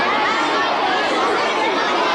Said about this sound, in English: I'm sure by the noise, you can tell there's a lot of people here